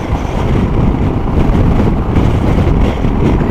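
Strong wind roars and buffets the microphone in a steady, dense rush throughout, on an otherwise fine day outdoors near open water, with no voices.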